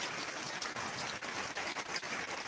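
A close, loud, steady wash of heavy rainfall runs off and pours through a mesh screen into a borewell dug for groundwater recharge, with no talking.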